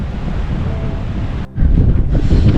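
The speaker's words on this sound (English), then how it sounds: "the winds are still howling" Strong wind in a remote mountain community of Pakistan buffets and roars, loud and gusty, with a brief lull before a heavier blast.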